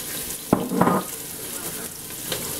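Chunky onion pieces hit hot vegetable oil in a pan for squirrel chili, with a couple of sharp clatters near the start followed by a steady, moderate sizzle close by.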